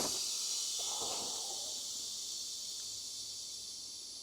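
Releasing a truck's spring brakes sets off a steady, airy hiss that starts fairly strong and slowly fades over a few seconds, heard alone in a quiet cab.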